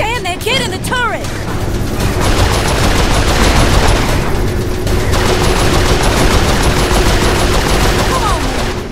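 Turret gunfire in the video game Saints Row IV, a loud, dense, continuous barrage of rapid shots mixed with vehicle rumble and explosions, with voices shouting over the din.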